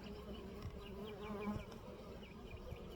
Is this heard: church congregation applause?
no